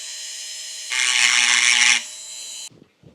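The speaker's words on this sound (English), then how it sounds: "So I'm making a mark here with my Dremel." A Dremel rotary tool with a carbide bit scribes a mark on a Dana 44 rear axle carrier, giving a steady close high whine for about a second amid motor hum, then stopping and leaving a couple of soft clicks.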